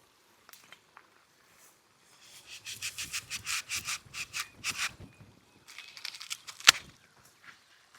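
A knife cuts through a Taiwan pink guava fruit, making a run of close, rhythmic rasping strokes through the firm flesh, followed by a few lighter scrapes and one sharp snap.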